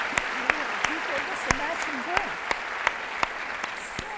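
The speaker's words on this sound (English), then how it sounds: "So let's give a big round of applause." Audience applause fills a presentation hall on school creativity: steady, dense clapping from a crowd, fairly close and continuous, with a few sharper individual claps standing out and a faint voice underneath.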